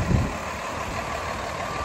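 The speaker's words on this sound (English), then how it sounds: "the noise is evident that I'm out here and there's a truck" A truck engine idles nearby outdoors, a steady broad rumble and hiss that holds evenly throughout with no talk over it.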